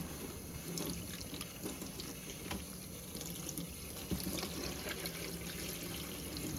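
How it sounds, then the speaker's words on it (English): Water rinsing shampoo out of a curly wig, a steady, close stream running and splashing throughout at low volume, with no talk. "Now I'm just rinsing all that shampoo out."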